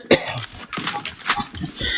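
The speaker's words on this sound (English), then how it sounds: "Sorry for the cough, by the way." A single sharp cough bursts out near the start, close and fairly loud, followed by quieter background noise.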